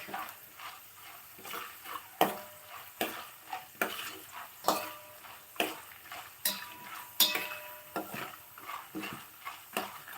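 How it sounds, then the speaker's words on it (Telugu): Lentils frying in oil in a pan for lemon pulihora, a soft steady sizzle broken by regular scraping stir strokes of a spoon against the pan, close and fairly quiet. "సో ఇప్పుడు ఈ పప్పులన్నీ బాగా వేపుకోవాలన్నమాట మంచిగా వేగితే సరిపోతుంది"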